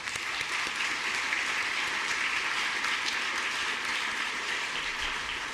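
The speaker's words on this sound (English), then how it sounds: "I ask all of you to please join me in applauding CAR for a century of service and excellence." Sustained applause fills a legislative chamber during a state House regular session, a dense even roar of many hands clapping at steady loudness from start to finish.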